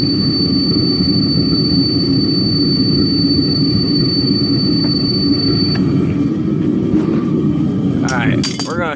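A gas forge burner for melting metal roars with a loud, steady low rush and a thin high tone, then the tone cuts out and a few metallic clinks follow near the end.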